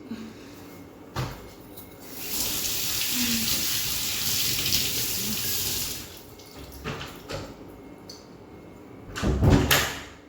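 Water runs from a kitchen tap for a few seconds while something is washed, framed by knocks and clatter from the sink and cupboards; no voices, fairly close.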